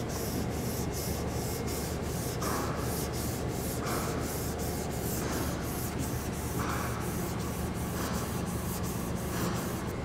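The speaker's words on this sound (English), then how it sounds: "So we'll pretty much continue sanding until we don't have any of these low spots." Block sanding guide coat on a car body before painting, a continuous rough rubbing scrape with regular back-and-forth strokes, loud and close with no talking.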